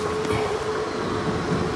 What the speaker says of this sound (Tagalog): Yun, mayroon na pong tren.